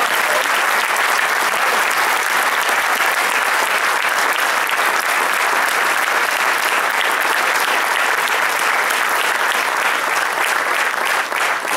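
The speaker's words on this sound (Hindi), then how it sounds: "जोरदार तालियों के साथ" Loud, dense applause from an audience following a classical Hindustani vocal performance, a steady unbroken wash of clapping for the whole stretch with no voices over it.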